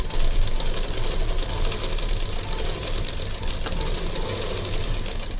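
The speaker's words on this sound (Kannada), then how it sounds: "ಈ ರೀತಿ ನೀಟಾಗಿ ಎಡ್ಜಿಗೆ ಸ್ಟಿಚ್ಚನ್ನು ಹಾಕ್ಕೊಂಬಂದ್ಬಿಡಿ" A sewing machine runs a steady, rapid mechanical whir while stitching along the edge of a blouse lining, loud and continuous throughout.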